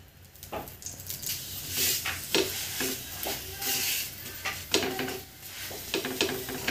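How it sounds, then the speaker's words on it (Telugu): Aloo paratha cooking in oil on a hot griddle, with a steady sizzle and repeated scraping, stirring-like pressing sounds as the flatbread is turned and pressed. "పెనం వేడెక్కాక మనం ముందుగా చేసుకున్న పరోటాని వేసుకోవాలి. పరోటాని వేసుకున్న తర్వాత ఒకవైపు కాలిన తర్వాత ఇంకోవైపు తిప్పుకోవాలి. దీని మీద కొంచెం ఆయిల్ వేసుకుందాము."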